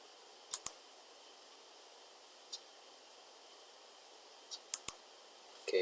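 Sharp computer mouse clicks come in small clusters, a quick pair near the start and another few toward the end, with one faint click between them, against a quiet room hiss.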